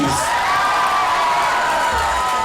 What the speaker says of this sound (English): round of applause and some cheers